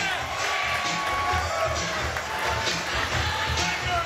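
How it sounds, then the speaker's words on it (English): Guests at a wedding reception at the Grosse Pointe Club clap and cheer steadily as the bridal party enters, a dense crowd roar with a few shouts and voices mixed in. "Give them a round of applause."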